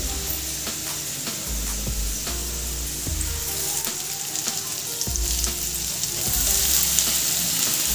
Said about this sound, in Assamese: মোৰ পিঁয়াজখিনি ধুনীয়াকৈ ভাজ খাই গৈছে এতিয়া মই ইয়াতে কলডিলখিনি দি দিম